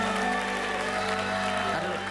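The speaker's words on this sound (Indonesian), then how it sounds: "Tepuk tangan." Studio audience applause on an Indonesian television dating show, a dense, steady wash of clapping that fills the whole short stretch at a loud, constant level.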